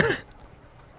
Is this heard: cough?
yes